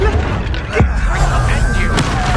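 Confringo and Incendio spell blasts from a video game: booming, fiery bursts and a sharp whooshing crack, loud and close, layered over game ambience with a voice present.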